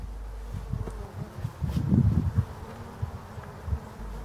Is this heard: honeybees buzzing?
yes